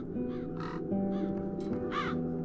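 Crows caw several times in The Dark Eye: Chains of Satinav video game, harsh nasal calls in quick succession over a steady musical drone.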